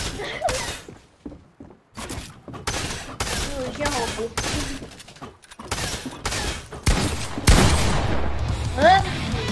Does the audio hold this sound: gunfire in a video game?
yes